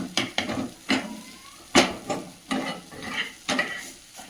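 A garlic dish is stirred in a pan with a utensil, giving regular scraping strokes about every half second along with a faint sizzle, close and clear with no voices.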